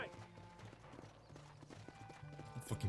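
Hooves of a horse in Red Dead Redemption clip-clop in a quick, steady rhythm. The sound is faint and mixed with game music and mechanical noise, with a louder thump near the end.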